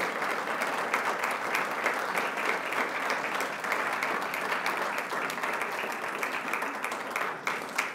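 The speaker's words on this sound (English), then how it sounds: "So you can feel free to applaud for up to 30 seconds." Sustained audience applause at an alumni banquet, a dense, steady wash of many hands clapping that holds evenly for the whole stretch before tapering slightly at the end.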